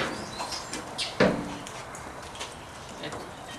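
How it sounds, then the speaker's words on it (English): Birds call and coo faintly in the background outdoors on a sleety winter day near a 1964 Pontiac GTO, with a brief louder call over steady hiss and rustle. "if you can hear in the background, other than the birds"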